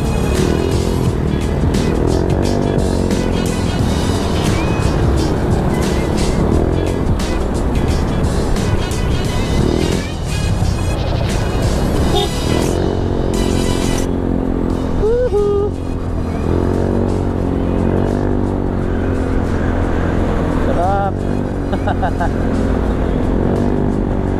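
Honda Zoomer X scooter riding on a street, its engine and loud aftermarket exhaust pipe droning steadily up close with wind rush, while the rider talks over it throughout.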